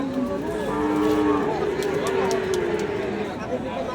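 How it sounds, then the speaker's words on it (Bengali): Bullocks at a busy rural cattle market near a border area moo in long, low, drawn-out calls, with crowd chatter and people talking underneath throughout. "সুন্দর সুন্দর বলদ গরু আসলে হাটে ওঠে, যে দেখতে পাচ্ছেন দর্শক।"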